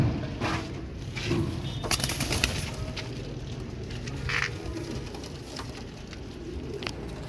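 High flyer pigeons cooing softly at close range, with a low steady murmur and occasional light patters and flutters, no talking.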